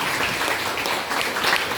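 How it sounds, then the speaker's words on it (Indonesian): Steady applause from a group of people, dense and continuous clapping at moderate volume throughout. "Tepuk tangan untuk kita semua."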